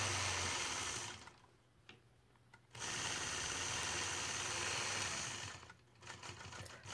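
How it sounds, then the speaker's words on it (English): A sewing machine stitches straight point-to-point lines across a circle quilt block, running in two sustained bursts with a steady whirring drone and a short pause in between. "I'll start out by stitching a straight point-to-point line"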